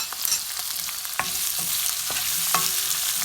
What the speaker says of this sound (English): I'm gonna stir fry it.